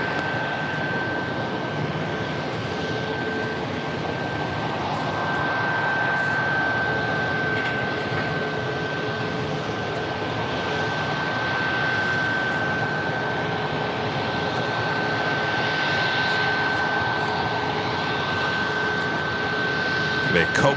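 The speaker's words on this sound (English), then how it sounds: "Airlines Flight 809 coming in from Panama City, a 737 MAX 9 heading toward one of the gates closest to us" Copa Airlines Boeing 737 MAX 9 jet arriving at JFK from Panama City and heading to a nearby gate: a steady, close engine roar with a thin whine, unbroken for the whole stretch, with voices faintly underneath.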